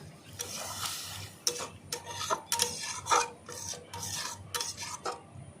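A spoon stirs a bamboo shoot and prawn curry in a pan after a splash of water goes in, making close, irregular scraping clinks and soft wet stirring with a few sharper knocks.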